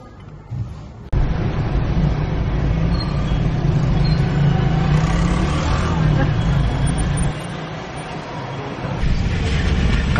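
Busy Kampala street traffic with vehicles and pedestrians, a steady broad rumble of engines and road noise filling the scene close by, swelling slightly near the end, with voices mixed faintly in the din.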